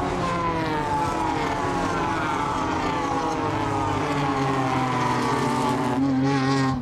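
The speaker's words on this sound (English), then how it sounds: "Spectacular sight as the pack powers its way up the hill." A pack of Renault Mégane Trophy race cars powers up the hill at Spa during a Eurocup race, several engines wailing together at high revs in a continuous loud roar, with pitches shifting as they pass and climb.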